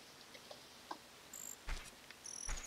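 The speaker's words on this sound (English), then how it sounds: "Gotta wait for the crickets." Crickets chirp at night in Zelda Ocarina of Time, the chirps faint and sparse with a few brighter clicks, quiet throughout.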